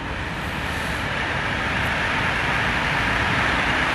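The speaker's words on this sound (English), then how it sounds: "there's a train passing" A train rolls past a children's playground in Stockholm, Sweden, a loud steady broadband rumble and rush that holds throughout without pause.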